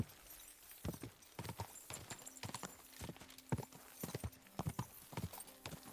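Horse hooves clip-clop steadily at a walking pace in the medieval video game Kingdom Come 2, a run of sharp, close, evenly spaced hoofbeats with no talk over them.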